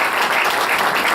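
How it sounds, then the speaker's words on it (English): Audience applause at a self-storage association luncheon, a dense steady wash of many hands clapping together, fairly loud and continuous throughout with no talking over it. "give them a round of applause"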